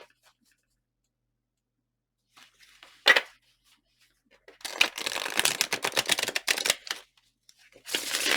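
Tarot cards riffle and shuffle in quick flurries after near silence, with a single sharp snap early on and rapid papery flicks close by.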